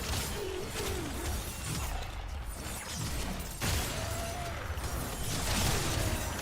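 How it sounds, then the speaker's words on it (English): Glass exploding in the video game Warframe, bursts of shattering and crashing debris amid dense, noisy game effects, with one sharp shatter standing out midway. "satisfying sound of glass exploding."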